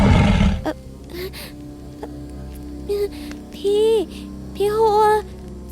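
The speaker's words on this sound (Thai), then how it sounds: "ฟังดูคล้ายเสียงเสือนะ" A tiger-like roar sound effect in a forest setting at night, heard as a sharp burst followed by several rising, groaning roars that grow louder and closer, with a deep rumble underneath.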